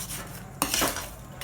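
A spoon stirs roasted cashews and other dry fruits into a laddu mixture in a pan, giving soft scraping and a sharp clatter against the metal, close up, with no voices.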